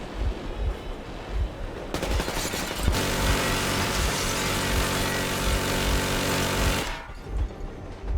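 Sustained machine gun warning burst in Metro Exodus, loud and dense, running about four seconds of rapid continuous fire after a few sharper opening shots, with rumbling engine-like noise before and after.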